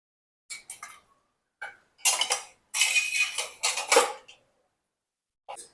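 Pressure cooker lids and dishes being loaded into a dishwasher, giving several bursts of clattering metal and clinking crockery separated by short pauses, close by with no talking.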